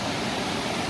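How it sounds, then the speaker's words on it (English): Lower cascade of Excelsior Glen Falls swollen with snowmelt and rain, a constant dense roar of falling water, near and loud, unbroken throughout. "the lower waterfall, as you see here, that's a very nice waterfall"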